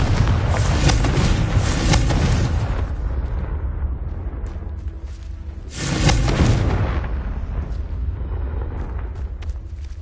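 Spell explosions in the video game Hogwarts Legacy; two heavy, rumbling blasts, the first lasting a couple of seconds and the second arriving after a quieter stretch, both loud and booming with lingering low rumble between.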